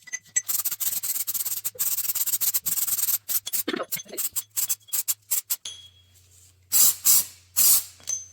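Crack-test developer is sprayed onto an air-cooled Porsche crankshaft in short, repeated hissing bursts of varying length, close and fairly loud, with a few pauses between sprays.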